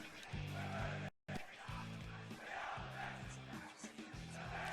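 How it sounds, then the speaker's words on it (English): Schoolboy rugby war cries from a baying crowd at a Brisbane Boys' College versus The Southport School match, loud rhythmic chanted shouts repeating in bursts across the clip, with a brief cut of silence. "schoolboy rugby in the war cries"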